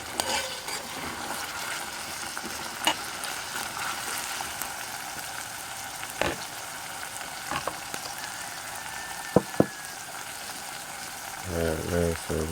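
Corned beef, also called bully beef, fries in a pan with a low, continuous sizzle, broken by a few sharp clinks and scrapes of stirring near the end.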